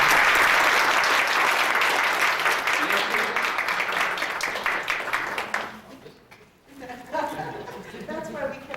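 Audience applauding in honour of community leaders at a tribute event, a dense, loud burst of clapping that gradually thins and fades, with a few scattered claps and murmuring voices left at the end.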